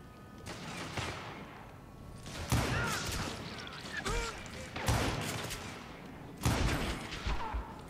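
Gunfire in the Wild West shooter Call of Juarez: Gunslinger, with repeated sharp revolver and rifle blasts breaking out in bursts over a noisy battle bed, some shots loud and close, others scattered and echoing.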